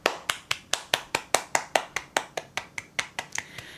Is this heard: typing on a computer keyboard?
no